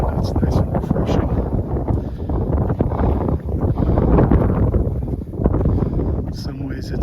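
Gusty wind roars across the microphone while hiking Mount Rainier's Skyline Loop, a loud continuous rush with a few sharp clicks and crunches from movement.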